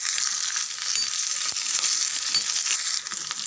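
Garlic and five or six dried red chilies fry in about three spoons of hot oil for a tomato-garlic thokku, giving a steady, loud crackling sizzle throughout with a brief stir clatter midway.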